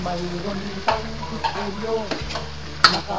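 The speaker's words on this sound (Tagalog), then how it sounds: "Halo lang natin ng maigi." Pork and tofu stirred in a pan with a spatula, giving several distinct scraping strokes over a steady sizzle, one sharp metallic clink near the end; no one speaks.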